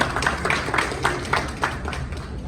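An audience claps at a human rights day ceremony, with steady, moderate applause over the whole moment while a voice talks over it.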